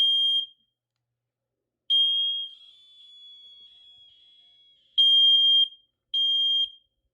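A faulty smoke alarm gives repeated high-pitched electronic beeps, some short and one drawn out, with gaps of silence between them.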